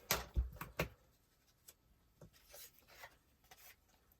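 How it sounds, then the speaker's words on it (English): Scissors snip through yellow cardstock in a few quick, close cuts, followed by softer scattered rubbing and trimming sounds, with no talking. "I'm going to just cut a small square out of some yellow cardstock"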